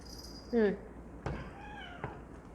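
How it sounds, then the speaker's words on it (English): Cats meow near a person eating while comparing Yirgacheffe coffees, with one clear, loud meow followed by a couple of softer, shorter calls. "My cats are slowly attracted to what I'm eating, so they're surrounding me."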